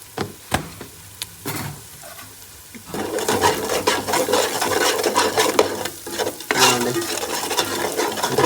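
Mutton head curry seasoned with chili powder and salt is stirred in a pan, a few scattered utensil knocks at first, then a loud, continuous scraping stir over frying sizzle, up close and without talk.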